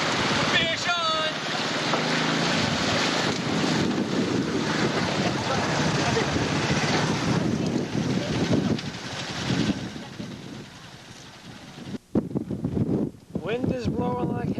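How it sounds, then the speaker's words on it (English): Strong wind roars outdoors in Alaska, buffeting the microphone in a loud, continuous rush. Near the end the gusts drop briefly and a person can be heard speaking. "Wind is blowing like hell."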